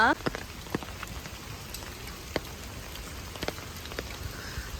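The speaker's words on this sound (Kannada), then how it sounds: "ಗಾಳಿ ಬಡ್ತಾ ನಿಂತಿದೆ ಟೈಫೋನ್ದು ಬಟ್ ಮಳೆ ಬರ್ತಿದೆ ತುಂಬ" Steady rain from Typhoon Bebinca in eastern China patters densely on surfaces, with occasional sharper drip impacts standing out against the constant hiss.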